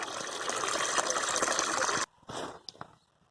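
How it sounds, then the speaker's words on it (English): Water pours and gushes steadily into a compost bin on an allotment to flood out black ants. It runs close and loud for about two seconds, then stops abruptly, leaving a few brief splashes and drips. "So we're going to flood them out of that compost bin up at the top, teeming with black ants"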